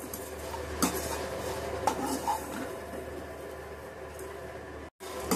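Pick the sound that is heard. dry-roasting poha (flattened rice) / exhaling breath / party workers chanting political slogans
dry-roasting poha (flattened rice)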